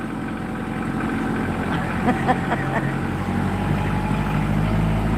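A Kubota tractor engine runs with a steady mid-pitched drone and low rumble, close and fairly loud, with a faint clatter partway through and the engine note building toward the end.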